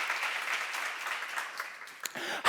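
A church congregation claps together at a seminar service, the applause steady and moderately loud throughout before tapering into a brief pause, then swelling again sharply at the very end.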